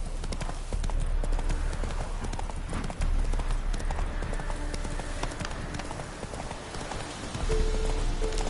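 Roach, the horse in The Witcher 3: Wild Hunt, gallops in rapid, continuous clip-clop hoofbeats over a dense game soundscape, close and loud, with a voice briefly heard.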